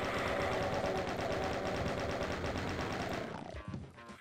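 A chain gun firing in Doom, a fast, even rattle of shots held for about three seconds before cutting off, leaving faint game sounds behind.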